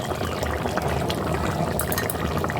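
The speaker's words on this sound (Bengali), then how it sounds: "এবার এর মধ্যে আমি ওপর শত শেষে দিয়ে দেব অল্প একটু গাওয়া ঘি।" A little ghee poured over potol chicken in a hot pan gives a dense, steady liquid hiss and sizzle, close and fairly loud throughout.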